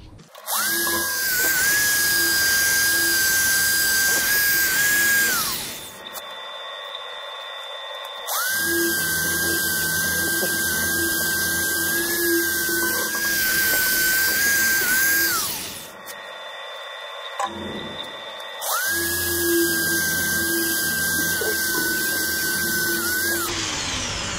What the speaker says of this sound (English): this sanding is so much fun